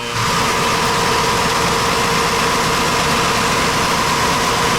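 A 2013 Chevrolet Suburban engine runs on a dyno, a loud, steady low drone with a constant hum, held evenly throughout with no speech.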